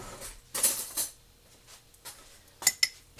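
A spoon taps and scrapes inside a glass canning jar while packing down turkey hash, with a few sharp clinks separated by quiet pauses, close and fairly faint.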